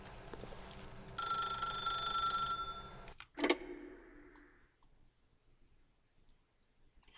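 An old telephone rings in a burst of bright, bell-like trills in The Stanley Parable video game, set over low ambient hum, then cut off by a click and a fading resonance before near silence.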